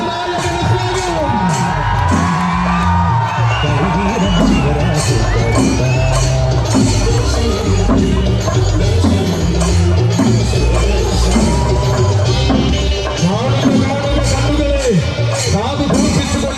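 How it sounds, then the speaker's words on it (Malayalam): Dense, loud crowd roar at the Thirunakkara Pooram temple festival at Thirunakkara Sree Mahadeva temple, with cheers, shouts and whoops layered over a constant wall of noise and occasional bangs, continuous for the whole stretch. "കാതു കൂർപ്പിച്ചുകൊണ്ട് ഈ ആരവം കേൾക്കുക കാതുകളെ"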